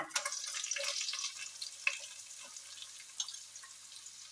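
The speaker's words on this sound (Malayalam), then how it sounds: "നമുക്ക് ഉള്ളി ഇട്ട് കൊടുക്കാം സവാള അരിഞ്ഞത് ഇട്ട് കൊടുക്കാം" Chopped onion dropped into a hot pan for an egg biryani, a soft steady sizzle with faint crackles and a few light clicks, fairly quiet with no voices.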